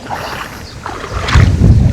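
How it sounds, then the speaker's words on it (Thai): Strong wind gusting over a reservoir while fishing from a boat, a steady roar of wind noise against the microphone that swells louder and rumbles heavily in the second half, with no voices. "ลมแรงเหมือนเดิมครับ"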